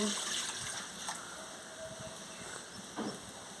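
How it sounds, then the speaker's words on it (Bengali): Water is poured into a kadai on the stove for cooking elephant-foot-yam stalk chorchori, a steady, soft rushing stream heard fairly close throughout. "এবার আমি পরিমাণ মতন জল দিয়ে দিচ্ছি"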